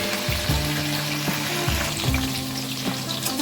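Okra frying in hot oil in a pan for an okra curry, a steady close sizzle with faint scrapes and knocks of stirring, no voices.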